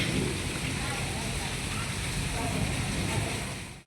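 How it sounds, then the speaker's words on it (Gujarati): Heavy storm rain in Jamnagar pours down in a dense, unbroken hiss, loud and steady, fading out sharply at the end. "વરસાદ જો બાર એ ધોધમાર ચાલુ છે"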